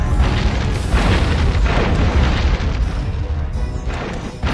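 A cannon fires repeatedly in the PS2 Shrek 2 video game, heavy booming blasts with rumbling tails running together over a loud, busy game soundtrack.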